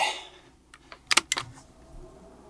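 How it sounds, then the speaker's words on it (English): A few sharp mechanical clicks cluster together in the middle, close and fairly quiet, followed by a faint low hum as an Espar diesel heater blower starts up. "I hear a blower clicking on in here."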